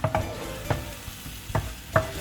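Thick roasted-coconut egg curry paste sizzles and spits in a hot pan while a spoon scrapes and knocks against it four or five times at an uneven pace.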